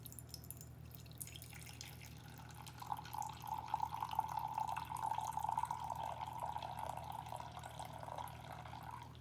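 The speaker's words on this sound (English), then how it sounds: "And we'll pour ourselves half of a cup." Hot dark roast pour-over coffee pours into a cup as a steady, fairly faint trickle and splash running under a low background hum, building after the first few seconds and continuing to the end.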